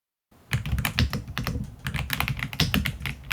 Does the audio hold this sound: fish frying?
no